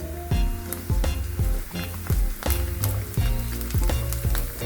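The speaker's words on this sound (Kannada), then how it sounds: "ಕೆಂಪಾಗಮಟ ಹುರ್ಕೊತೀನಿ ರೀ. ಕರಿಬೇವು ಒಂದು ಸ್ವಲ್ಪ ಹಾಕ್ಕೊಂಡೀನಿ." Onions and curry leaves frying in a pan for a dhaba-style paneer bhurji, a steady loud sizzle with repeated stirring scrapes and clatters at a regular rhythm, close up and with no voices.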